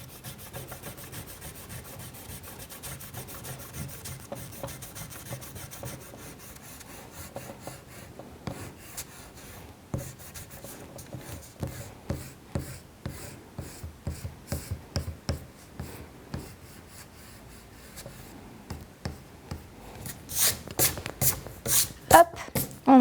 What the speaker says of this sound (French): prendre votre gomme et de gommer tous les traits de crayon à papier